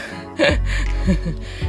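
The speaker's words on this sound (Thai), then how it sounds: "ได้ยินเสียงหายใจไหมหอบ" Heavy, ragged panting after climbing the stairs up Khao Ngon Nak in Krabi: close, loud breaths that come in uneven bursts, with some voiced gasps.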